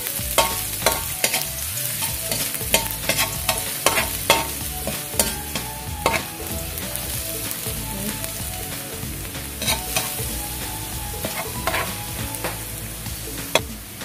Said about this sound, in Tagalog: chopped garlic. Ayan. Gigisahin lang natin to guys.